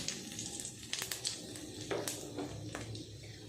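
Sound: panch phoron spices and dried chillies sizzling in hot oil

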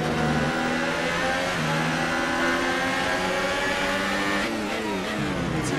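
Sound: Red Bull F1 car engine at full throttle, F1 2018 video game

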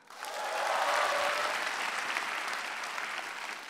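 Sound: audience applause at stand-up comedy show

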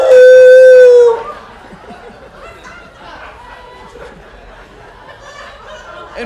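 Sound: voice imitating a basset hound howling

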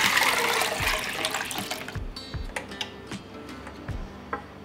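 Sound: water poured over sugar into a pot

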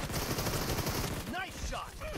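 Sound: gunfire from the video game PUBG Mobile

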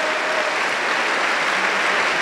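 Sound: applause

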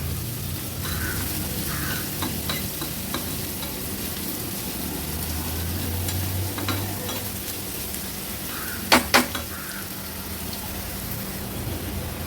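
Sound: onion frying in hot oil

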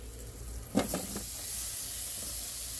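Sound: potatoes sizzling in a hot pan

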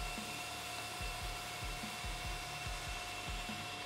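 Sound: belt sander with 150-grit sandpaper sharpening a blade edge

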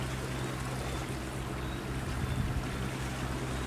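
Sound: fishing boat speeding back to port

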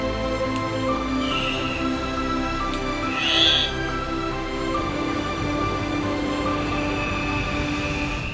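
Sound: birds squawking in jungle garden

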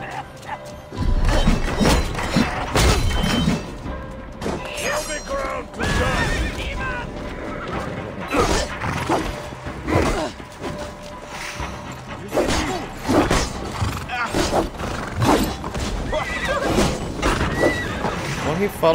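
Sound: horse neighing, from video game Assassin's Creed Valhalla

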